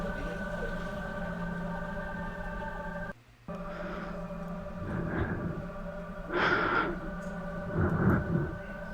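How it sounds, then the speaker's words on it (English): Strained, raspy breaths rise in loose bursts over a steady low hum, growing heavier toward the end, with a brief dropout early on. "Heavy breathing. Strained, raspy, painful breathing from what sounds like a woman."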